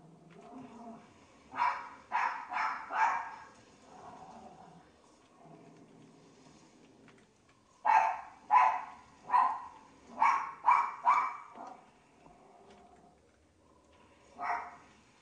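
Dogs bark in a zombies video game, sharp bursts in two clusters with a single bark near the end, loud and close over low game noise.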